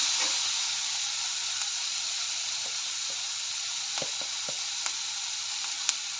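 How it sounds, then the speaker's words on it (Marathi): Green beans bhaji with onion-garlic masala sautés in a pan, giving a soft, continuous frying hiss with occasional faint clicks of stirring, and no voices. "सर्व मिक्स करून परतून घेऊया."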